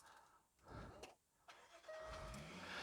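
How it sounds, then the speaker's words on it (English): Jaguar XF S started by push button: a short cranking burst, then the engine catches and settles into a steady idle, close and fairly quiet. "that engine start button is glowing red, and you'll see a bit of theatre from the vents as well when I push and start the car"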